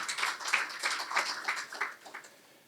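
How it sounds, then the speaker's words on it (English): Faint applause from an audience at a swearing-in and launching ceremony for CorpsAfrica Gambia, a steady patter of many hands clapping that thins out toward the end. "A round of applause for her"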